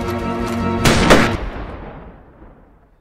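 Close gunfire in a video game: a loud sharp shot with a ringing tail stands over a tonal game backdrop, then the sound fades out over about two seconds.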